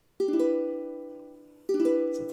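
Two ukulele chord strums, each ringing out and slowly decaying before the second strum lands, bright and close with no voice.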